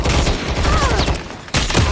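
Rapid sustained gunfire from a Call of Duty Mobile match, loud and dense bursts running almost continuously with a brief break near the end.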